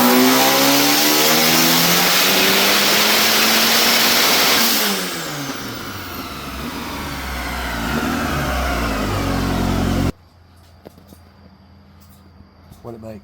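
A 500 hp Honda Accord CB7 engine with Delta cams revs hard and loud, climbing and falling through long high-rpm pulls before dropping back. A sudden cut leaves a much quieter, rougher idle.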